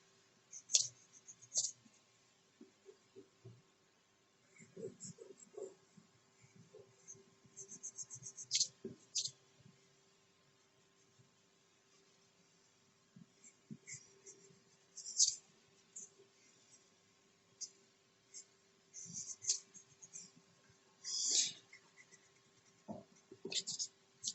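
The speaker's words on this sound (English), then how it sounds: "So now is the cleanup with our eraser, drawing with our eraser." An eraser scrubs across sketchbook paper in short bursts of quiet rubbing, broken up by small clicks and taps and set against a faint steady hum.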